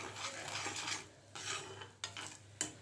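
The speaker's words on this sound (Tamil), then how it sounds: "இப்போலாம் நல்லா ஒன்றா கலந்து விட்றலாம்" A spoon scrapes and stirs through thick pepper curry (milagu kulambu) in a pot, soft and close, with occasional light clinks against the metal.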